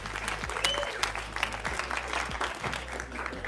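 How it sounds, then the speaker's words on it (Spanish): A small audience at a crypto meetup claps for the next presenter, a moderate patter of hands with a low hum and some scattered voices underneath, fairly faint and brief. "ahora sí un aplauso otra vez para César Cosío"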